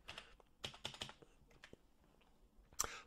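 Keys clatter on a computer keyboard during data entry in QuickBooks Online, fast irregular bursts of close, crisp clicks with short pauses between them.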